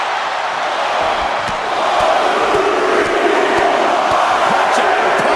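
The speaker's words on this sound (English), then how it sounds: "What a raucous crowd here tonight." A raucous wrestling crowd in the video game WWE 2K25 roars and cheers loudly and without a break, swelling partway through, with sharp clicks scattered over the din.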